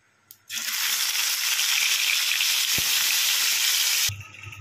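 Tilapia fish heads drop into hot oil and set off a loud, steady sizzle that fills the space at close range and holds for about three and a half seconds before cutting off abruptly.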